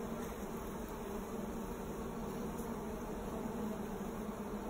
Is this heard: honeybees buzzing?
yes